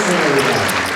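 A crowded poker room at the World Series of Poker Main Event applauds Doyle Brunson's exit, a loud, dense burst of clapping lasting about a second with voices mixed in.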